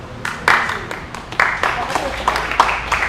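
An audience at a talk about a B-movie film club claps in quick, scattered bursts through the few seconds, with voices mixed in.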